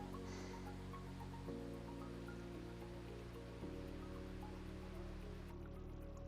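A waterfall in the Chapada, heard as a faint, steady rush of falling and splashing water, continuous and even, with no speech.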